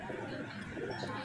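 Soft coos of pigeons for sale in Bijnor, India murmur at close range beneath a steady background hum, a low repeated cooing with faint chirps.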